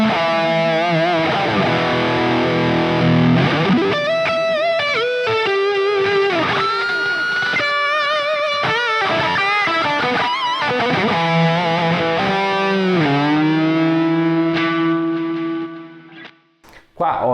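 Electric guitar run through a distortion pedal on a Quad Cortex, playing loud sustained overdriven chords and bending lead notes, with the final note fading to silence near the end.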